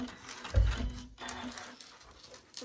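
A sewing machine makes a short back stitch while finishing a quilted mug rug binding, a quiet close mechanical whir with a soft thump at the start and light patter as it runs, no voice.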